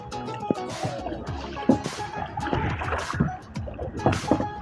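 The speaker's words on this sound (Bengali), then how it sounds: "নৌকা চালা।" A wooden boat is rowed on water, with rhythmic splashes and knocks from the oars every second or so, close and fairly loud, with water trickling between strokes.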